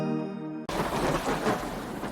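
A thunderstorm with heavy rain hiss and rumbling thunder rolls in abruptly after a brief opening tone, loud and continuous to the end.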